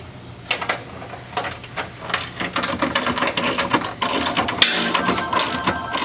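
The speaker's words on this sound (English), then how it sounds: "we're just about done tightening down these front subframe bolts here" Hand tools work on the front subframe bolts of a MINI Cooper, with a run of close, rapid mechanical clicks and ratcheting taps that come in uneven bursts over several seconds, with no talk.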